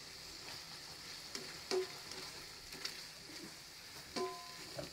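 Onions and chili frying in hot oil for a Filipino ginataang bayuko dish, a soft steady sizzle with a few sharp stirring clinks and scrapes.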